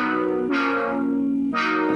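Synthesizer chords with a thin edge of white noise on top play in distorted, echoing stabs, two sustained chords with a bright hissy attack at each change, loud and alone.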